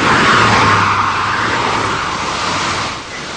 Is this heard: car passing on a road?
yes